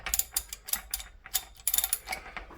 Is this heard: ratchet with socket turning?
yes